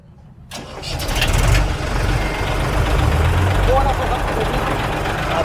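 A Massey Ferguson 7235 tractor engine cranks and catches, then settles into a loud, steady diesel idle. The close, low rumble runs unbroken after the start.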